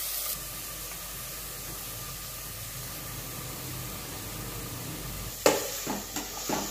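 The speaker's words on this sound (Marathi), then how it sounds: "कांदा हाय फ्लेमवर व्यवस्थित परतून घ्या आणि मऊ होई तोपर्यंत शिजवून घ्या।" Onion and grated ginger sautéing over high flame in a quarter cup of hot oil, a steady soft sizzle and hiss running throughout, with a few louder clatters and bumps near the end.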